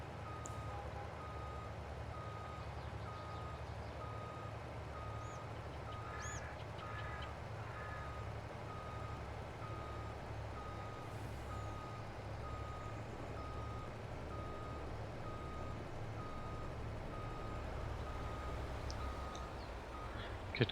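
A truck reversing in the Farming Simulator game, its steady backup beeper pulsing at a regular rhythm over a constant low engine drone, with faint birdsong in the background and no talking.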